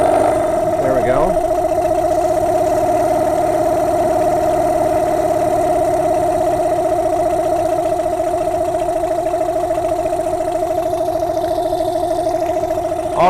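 Small outboard motor on a dinghy idling steadily after a warm restart without choke, a loud, even mid-pitched hum that runs unbroken and close throughout.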